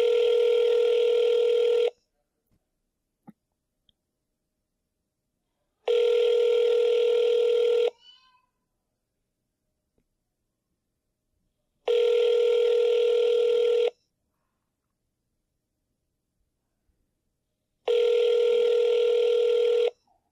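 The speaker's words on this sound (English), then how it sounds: "This dude needs to answer the phone." A telephone rings out on a call in four long, evenly spaced bursts of about two seconds each, separated by silence, loud and close with no talk.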